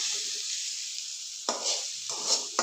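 Tamarind mixture sizzles steadily in a kadai, a bright continuous frying hiss with a few louder scraping bursts as it is stirred, close and alone with no talk.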